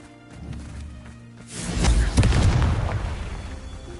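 A Confringo fire spell explodes in Hogwarts Legacy, a low rumbling boom that swells after a quiet start and rolls on with crackling debris, loud and close, with no talk.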